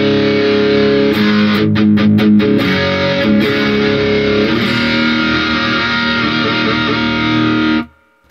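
Heavily overdriven electric guitar through stacked overdrive pedals including a Tube Screamer, playing a thick, saturated riff with a few sharp picked accents early on, sustaining loudly before stopping abruptly.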